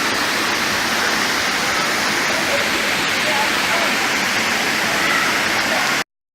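A waterfall of three falls pouring into a pool, a dense steady roar of rushing water, loud and unbroken until it cuts off abruptly.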